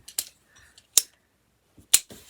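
Scissors or a cutter slice 4.5 inch fabric squares for a beginner's flower quilt block in crisp, close snips. Three sharp cuts sound about a second apart, with faint rustling and small clicks between them.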